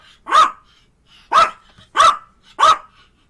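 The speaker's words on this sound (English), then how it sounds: "He's barking because Buka don't want to play." A dog barks four times, loud and close, in a steady rhythm with short pauses between barks.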